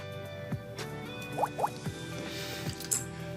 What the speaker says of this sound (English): if I were to stir it around a bit, look how it's totally changing the color of the water